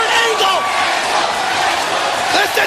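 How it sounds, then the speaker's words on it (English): A packed arena crowd at a 2006 TNA wrestling match between Kurt Angle and Samoa Joe roars loudly and steadily, a dense wall of cheering and whistles with no letup. "Listen to this crowd."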